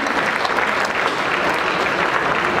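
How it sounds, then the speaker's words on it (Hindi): A dense burst of clapping fills a kavi sammelan hall, the audience applauding loudly and evenly from start to finish with no voices over it. "तो एक बार तालियां अपने सौभाग्य पर बजाइए"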